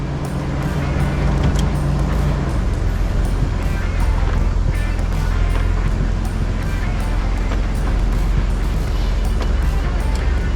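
A 1996–2000 Toyota 4Runner on a test drive just after brake bleeding, with a steady loud rumble of engine and road noise filling the cabin, an engine drone settling lower after the first few seconds.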